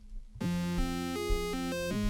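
A bright synthesizer tone built from mini waveforms on a wavetable synth, buzzy and harmonic-rich, steps through a few sustained notes from a remake of a song, played alone after a short quiet lead-in.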